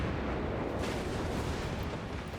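Cruiser guns firing in a World War II naval combat game, a dense, rumbling burst of heavy booms that rolls on for a couple of seconds with no gaps.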